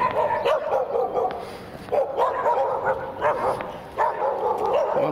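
A dog barks repeatedly on a city street in central Barnaul, sharp yips and barks in bursts at moderate distance, with faint street ambience and no talk.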